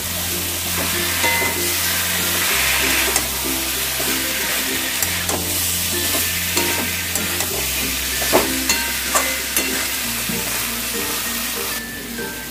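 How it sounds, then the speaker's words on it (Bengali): Potato, green jackfruit and prawns with curd stir-fry in a Bengali pan, a loud close sizzle with repeated scraping stirs and clinks, while a low steady hum runs underneath throughout. "এবারে আমি আলু এঁচোড়টা দিয়ে দেবো আর দিয়ে দেবো চিংড়ি মাছ দিয়ে আরো 3 মিনিট আমি ভালো করে কষিয়ে নেব"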